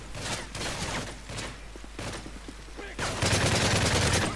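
Rapid bursts of video game gunfire from a first-person shooter, loud and dense, with a bigger volley near the end, set against ongoing game sounds.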